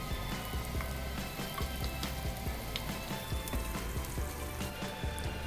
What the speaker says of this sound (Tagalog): Pag mainit na po yung mantika, igisa na natin yung bawang.